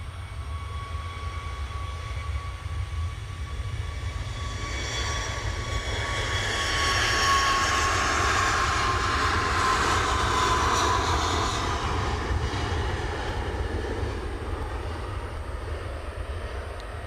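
A Boeing 737 MAX 8 jet roars steadily at Manchester Airport, a loud, sustained engine rumble that swells slightly in the middle and then holds.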